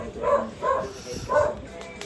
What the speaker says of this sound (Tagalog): Sorry guys kung maingay yung aso.